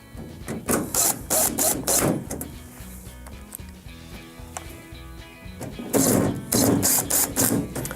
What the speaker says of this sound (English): we can secure the top side with the 2 number 2 Phillips screws